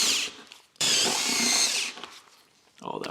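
A power drill spins a screw into a hardware hole on a Supra A90 bumper in loud close bursts with pauses, and someone talks between them.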